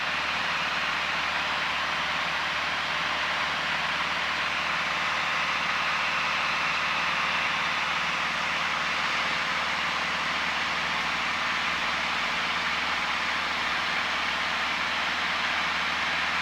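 Piper Archer light aircraft engine heard from inside the cockpit during flight maneuvers, a loud, steady droning roar with broad rushing noise, unchanging and constant throughout.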